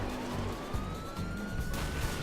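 A police car siren wails in the Driver San Francisco video game, its rising and falling tone sweeping over a rumbling car engine and a faint backing soundtrack.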